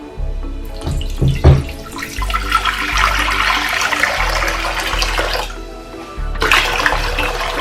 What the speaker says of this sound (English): I'll add 2 cups of water.